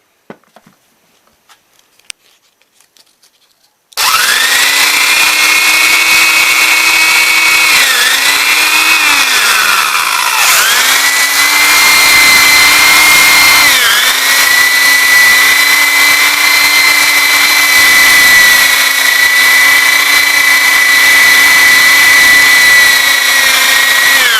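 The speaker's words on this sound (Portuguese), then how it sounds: "deixa a furadeira girando do outro lado e vem com a lixa fazendo a limpeza aí" A steady, high-pitched electric drill whine runs nearly continuously after a few quiet seconds, dipping briefly in pitch at moments as sandpaper is pressed against the spinning armature of a marble saw motor.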